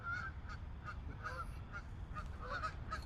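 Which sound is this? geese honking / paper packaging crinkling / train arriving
geese honking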